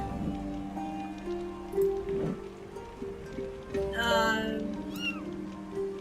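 A cat in the video game Grim Legends: The Forsaken Bride meows several times over soft ambient game sound with a patter like rain, the calls rising and falling and fairly close.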